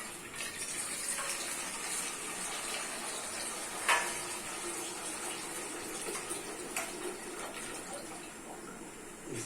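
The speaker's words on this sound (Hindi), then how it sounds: "इस तरह से देखिए पानी ले लिया, पानी रख लेते हैं।" Water runs steadily into a pot in a kitchen, filling it for evening tea: a continuous close gushing and splashing lasting several seconds, with a small clink partway through and no voices.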